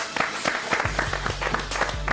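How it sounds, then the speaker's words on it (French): A studio audience applauds on the set of a French-language television talk show, a steady wash of clapping over a low hum that runs throughout. "Je vais vous demander, s'il vous plaît, d'applaudir énormément pour elle."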